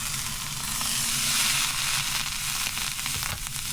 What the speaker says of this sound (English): This is the first time I'm cooking the ribeye capped round